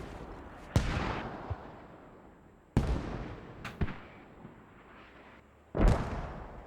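Distant machine gun fire from a jeep-mounted MG in the military shooter Squad, heard as a few sharp booming reports spaced seconds apart, each trailing off with a long echoing decay.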